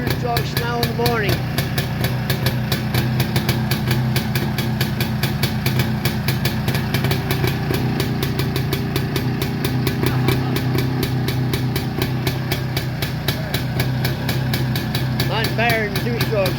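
An unfamiliar two-stroke motorcycle engine runs steadily nearby, its rapid buzzing exhaust pulses forming a constant rough drone, with voices talking over it.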